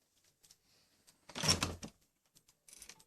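Someone handles a locked room door from inside, producing a brief burst of rattling and clunking around the middle, with faint clicks before and after and no talking.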